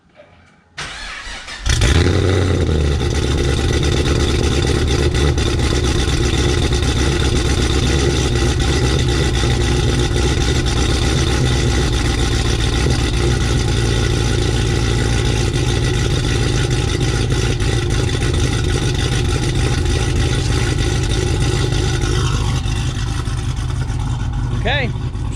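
A supercharged Chevrolet SS fitted with a new throttle body cranks briefly, fires up with a sudden loud catch and then settles into a steady, deep, close idle that carries on for over twenty seconds.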